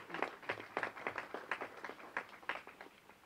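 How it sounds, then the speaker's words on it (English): Sparse, quiet clapping from a small gathering honoring a retiring national team player, a handful of distinct claps in loose rhythm, distant and faint. "I think he deserves a round of applause for that."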